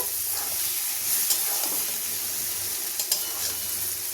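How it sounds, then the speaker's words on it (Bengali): Spice paste being sautéed with water in a pan while cooking a Bengali fish-head curry, giving a steady close sizzle and hiss with a few light stirring scrapes. "জল দিয়ে মশলাটাকে কষিয়ে নিচ্ছি"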